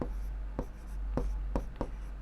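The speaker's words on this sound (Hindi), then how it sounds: "सबसे पहले लिखेंगे यूक्लिड" A pen scratches across a notebook page while a maths answer is written out, a run of distinct short strokes with brief pauses between them, close and fairly soft.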